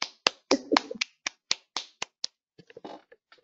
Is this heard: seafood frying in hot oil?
no